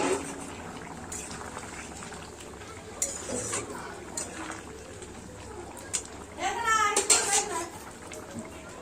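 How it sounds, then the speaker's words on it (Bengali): A pot of vegetable curry bubbles softly on the stove, a low steady simmer, while a voice and some clinking of kitchen utensils rise over it toward the end. "তরকারিটা আমার ফুটে গেছে।"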